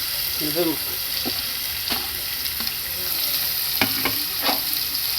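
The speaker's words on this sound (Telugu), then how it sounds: "నెక్స్ట్ అదే ఆయిల్లో మనం తీసుకున్న ఆనియన్స్ని వేసేసుకోవచ్చు." Onions frying in oil already used for cooking egg and dried fenugreek curry, a steady broadband sizzle with a few stirring scrapes and clinks, close and fairly loud, with no voices.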